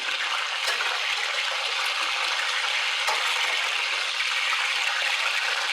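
Chicken pieces browning over high heat in a hot pan for a chicken and pasta salad, giving a steady, dense sizzle that holds even and close throughout with no talking.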